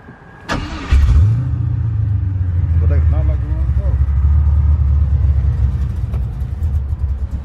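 A car with a swapped engine starts and runs roughly in cold weather, a steady loud engine drone following the crank, with faint talk in the background.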